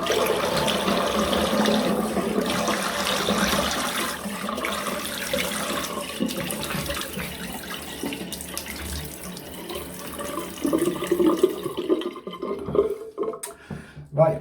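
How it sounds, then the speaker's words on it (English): Cold water runs steadily from a sink tap for rinsing during a razor shave, a continuous rushing hiss lasting most of the stretch before it cuts off near the end. "Cold water rinse."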